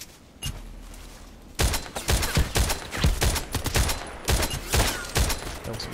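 Rapid bursts of SVD-S rifle fire in a video game crack out in a dense, loud volley, many sharp shots overlapping for several seconds after a single early report and a brief low rumble.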